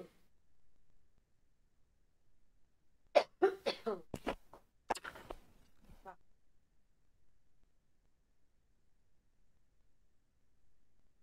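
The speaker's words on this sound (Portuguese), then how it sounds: "Espera aí que eu vou tossir" A person coughs several times in a quick cluster of sharp bursts close to the microphone, set in an otherwise near-silent room.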